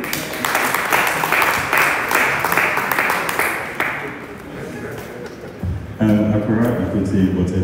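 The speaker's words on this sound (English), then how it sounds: "Clap for you" Audience applause at an annual general meeting, a burst of clapping from a seated crowd that fades after a few seconds, followed by a person beginning to speak.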